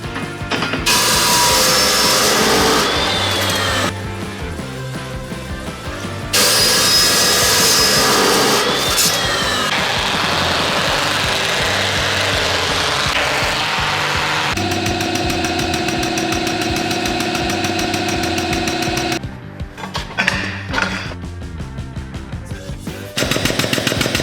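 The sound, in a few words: machine bending steel tubes for truck hoop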